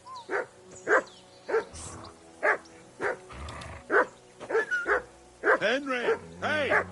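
Dog in Kingdom Come: Deliverance II barking repeatedly, about ten loud, close barks in an irregular rhythm with a few whiny yips near the end, with light game background sound between them.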